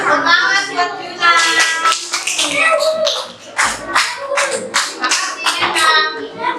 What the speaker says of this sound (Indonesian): Iya, tepuk tangan buat Juna.